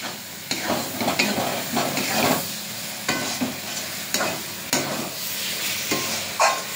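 Chicken pieces fry and sizzle in a pan of home-style masala with a little oil. A steady, close hiss runs throughout, broken by repeated louder scraping stirs roughly every second or two, with no voices.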